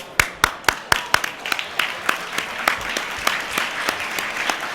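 A futsal crowd at a Serie A match between Arzignano and Latina applauds a player leaving the court, starting with a few loud, distinct claps that quickly merge into a steadier, softer patter of many hands.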